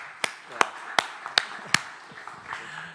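A small conference audience claps after a talk, with five or six sharp, separate claps spaced evenly in a sparse, close-miked room and a faint murmur of voices underneath.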